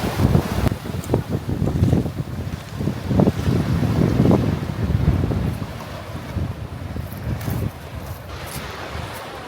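Strong seaside wind roars and buffets the microphone in gusts, with a steady rushing noise and a few brief distant voices.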